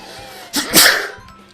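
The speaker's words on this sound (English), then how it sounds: "Sorry about the sneeze." A single sharp human sneeze, close and loud, with a quick intake before the burst and a brief fading tail, otherwise quiet.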